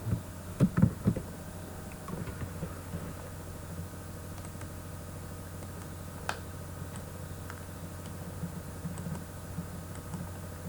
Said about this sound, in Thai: ก็พิมพ์ชื่อตามที่เรากำหนดไว้นะครับ